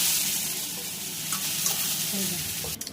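Soya chunks sizzle and crackle steadily while frying in hot oil, a continuous close hiss with light stirring clinks, briefly disturbed near the end.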